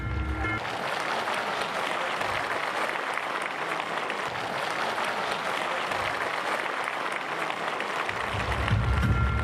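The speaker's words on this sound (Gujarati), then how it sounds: "હાથ ઊંચા કરીને તાળીઓનો ગડગડાટ." Sustained thunderous applause from a large crowd with raised hands at a community organisation gathering, holding steady and loud the whole way through and swelling slightly near the end.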